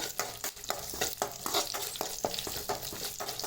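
Six or seven garlic cloves sauté in a pan with dried red chillies, giving a steady close sizzle with rhythmic stirring scrapes throughout and no voices.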